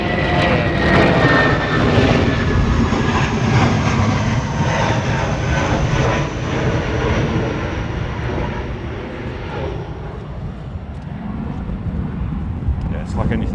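A departing aircraft at London Gatwick Airport roars through stormy weather, a loud broadband engine rumble that slowly fades as it climbs away, with people talking over it.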